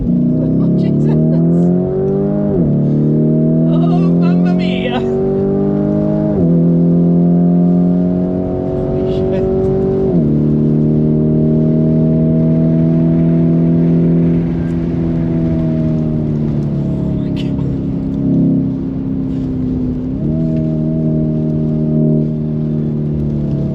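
A Lamborghini Urus lapping the wet Nürburgring heard from inside the cabin: a loud, continuous engine drone that climbs and drops repeatedly through gear changes and throttle shifts.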